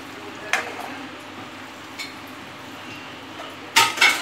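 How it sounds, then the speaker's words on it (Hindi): Fried jackfruit being stirred into masala in a cooking pan, giving soft scraping with a few sharp clinks of a utensil against the pan, spaced a second or two apart and close by. "जो मैंने कटहल फ्राई किया है वो मैं अब इसमें डाल रहा हूँ। अब इस कटहल को मैं इस मसाले के साथ भूनूंगा"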